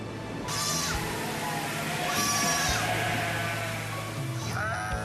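Sheep and goats bleat repeatedly on the Mongolian steppe, several overlapping wavering cries, close and loud over a continuous background of the herd.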